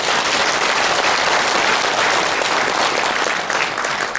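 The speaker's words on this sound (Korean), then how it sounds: "박수로 서로 격려를 해주시기 바랍니다" An audience at a lecture breaks into dense, sustained applause, many hands clapping loudly and evenly throughout with no voices rising above it.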